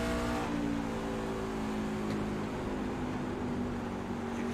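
A race truck engine drones at steady low revs as it rolls through a corner off the throttle at Homestead, heard from on board with constant rumble.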